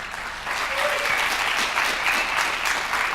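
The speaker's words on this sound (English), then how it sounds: "Give him a round of applause." Crowd applause at a tech conference for an extended reality speaker, a steady bright wash of many hands clapping that swells after a brief quieter start and continues evenly.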